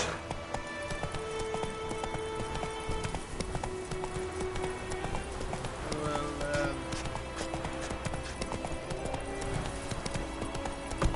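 Roach, a horse in The Witcher 3, gallops with a steady, loud clip-clop of hooves over game background sound.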